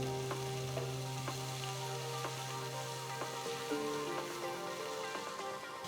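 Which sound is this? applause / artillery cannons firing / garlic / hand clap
garlic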